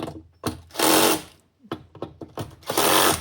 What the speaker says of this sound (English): Let's just make sure that these screws